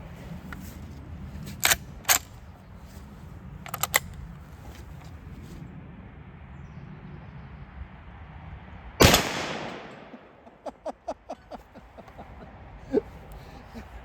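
Single sharp, loud .45-70 rifle shot ringing out outdoors with a long decaying tail, preceded by a few fainter clicks and followed by several quick metallic clicks of the action.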